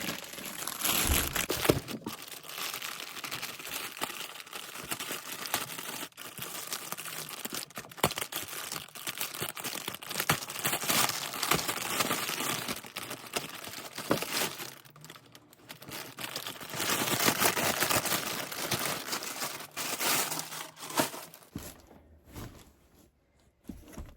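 A clear plastic bag with paper inside is unwrapped during a handbag unboxing: continuous close crinkling and rustling for over twenty seconds, with a brief lull near the middle, before it falls quiet at the end.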